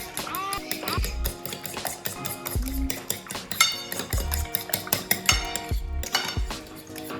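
Milk being whisked into eggs in a dish: a run of close, bright metallic clinks and scrapes of utensil against the dish, coming in quick irregular bursts, with a person talking intermittently over the clatter.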